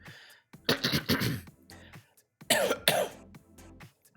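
Two separate bursts of harsh coughing, each a quick cluster of two or three coughs, close and fairly loud with short pauses between.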